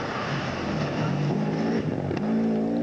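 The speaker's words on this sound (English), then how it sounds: "Plenty of popping and banging from the anti-lag system" Rally car at the 2000 Pirelli Carlisle City Challenge Rally, its anti-lag system popping and banging over a steady, loud engine drone that rises and falls throughout.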